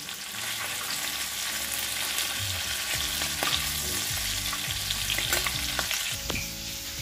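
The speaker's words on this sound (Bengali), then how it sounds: "চিংড়ি মাছ, বড় মাছ, মাছের ডিম একসঙ্গে ভাজতে দিয়েছি।" Prawns, big fish pieces and fish roe frying together in a pan, a loud steady sizzle with scattered crackles and stirring scrapes, close and continuous without talk.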